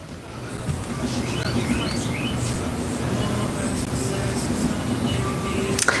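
Bird chirps and short tweets ring out over a steady low hum of background noise, with no one speaking.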